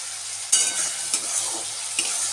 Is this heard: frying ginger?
yes